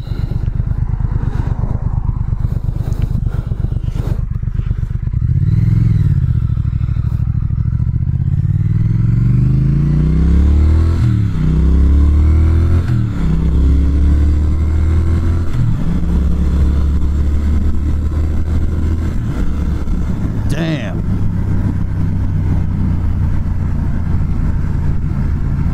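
A 2019 Triumph Speed Twin motorcycle engine rumbles steadily while riding, revving up and easing off in several rising sweeps at moderate throttle, with continuous wind and road noise close by and no talking.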